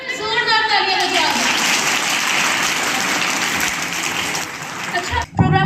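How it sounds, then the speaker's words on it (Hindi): Audience clapping at a school Veer Bal Divas event, loud dense applause sustained for several seconds and ending abruptly, with a voice heard briefly at the start. "जोरदार तालियां बजाओ।"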